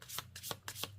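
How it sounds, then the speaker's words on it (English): Tarot cards are shuffled in quick, soft riffles, about four brisk bursts in a second, close and faint. "Been shuffling here for a minute."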